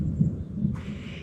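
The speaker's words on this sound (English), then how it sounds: "Well, I know you can hear that thunder." Low rumbling thunder rolls faintly through a South Dakota thunderstorm, a soft distant murmur with no voices, joined near the end by a brief hiss of wind or rain.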